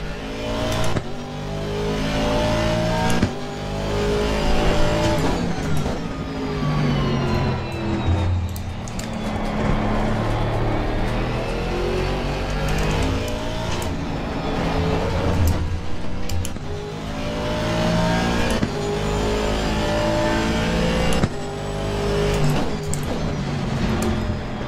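Race car engines in the video game Assetto Corsa Competizione, loud continuous revving with repeated upshifts and downshifts as the engine pitch climbs and drops through corners, heard throughout.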